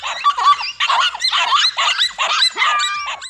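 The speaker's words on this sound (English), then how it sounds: "As the scene unfolds, all 4 dogs unleash a chorus of barks, hoping to intimidate the reptile." Four dogs confronting a reptile bark and yip in a rapid, overlapping chorus of sharp, high-pitched barks with squeaky whimpers, loud and close, with no talk.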